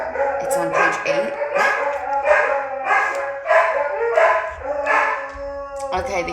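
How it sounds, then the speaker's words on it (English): Dogs bark and yip repeatedly close by in an uneven rhythm, with a howling tone mixed in, steady and fairly loud the whole time. "I'm sorry if you can hear the dogs."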